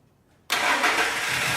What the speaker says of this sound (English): Hopefully you guys are going to be able to hear the engine. There, struggling pretty hard.